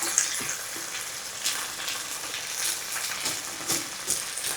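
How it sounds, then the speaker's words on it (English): Rice browning in a skillet for a chicken, rice and broccoli one-pot meal, a steady close sizzle with occasional stirring scrapes and crackles, with no voices. "You brown the rice."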